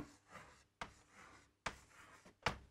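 Chalk or marker strokes on a board while zeros are written during a math lesson, four short sharp scratchy marks spaced about a second apart with soft rubbing in between, close and fairly quiet.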